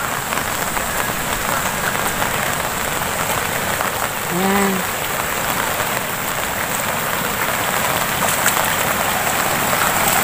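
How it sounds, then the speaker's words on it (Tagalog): Heavy rain falls steadily in a dense, loud hiss throughout, with one short spoken word midway. "Naligo kami sa ulan."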